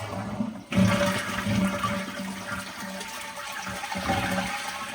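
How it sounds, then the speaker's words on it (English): Household toilet flushing as its tank is drained before pulling the toilet to check a failed wax ring; a sudden loud rush of water follows a brief quiet, then a sustained gurgling swirl and refill hiss. "emptying the tank."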